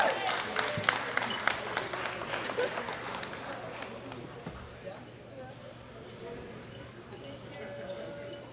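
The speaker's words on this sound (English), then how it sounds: "Big round of applause for Kathy Marksteiner." An arena audience at a world classic powerlifting championship applauds a gold medal winner. Sharp claps are strongest at the start and gradually thin out into sparse clapping and background crowd murmur.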